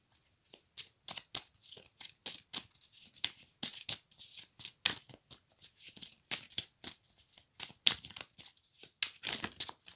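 Oracle cards shuffled by hand in a quiet room, a long run of quick, crisp riffles and slaps coming in uneven bursts, close and clear with no talking.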